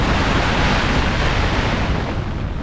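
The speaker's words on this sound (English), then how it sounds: "The wind's obviously coming against this side here, so it's blowing the snow up against it." Storm Barra wind drives snow against the side of a Fjallraven Abisko Lite 2 tent while wild camping in a snowstorm, making a loud, constant, close-up roar of rushing, buffeting noise with no voices.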